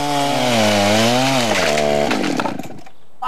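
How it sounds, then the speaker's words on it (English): A chainsaw held in a bracket mill rips lumber from a raw log, its loud steady engine whine wavering slightly as it cuts, then sputtering and dropping off before a brief rev at the end. "I actually really like the chainsaw"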